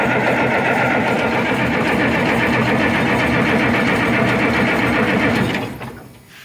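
The diesel engine of an Oliver 1550 tractor cranks over with a rapid, rhythmic mechanical chugging, loud and close, holding steady for over five seconds before winding down and stopping.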